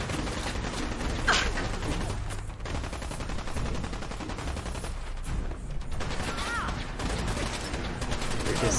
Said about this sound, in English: I can't shoot him fast enough to make up for the gamma gun